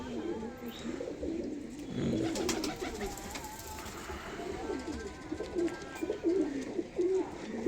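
Lotan pigeons in a loft with young chicks give continuous low, rolling coos, several birds overlapping at close range in a steady throaty murmur.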